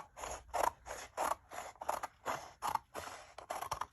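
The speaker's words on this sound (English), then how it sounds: "I think it's just as easy to grab the scissors and cut like this" Scissors snip steadily through a full sheet of paper, a rhythmic run of about a dozen crisp cuts, close and clear with no talking.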